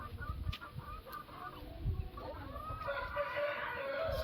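Rooster and chickens on a poultry farm, with scattered clucks and soft calls at moderate distance over a low background murmur and no clear crow.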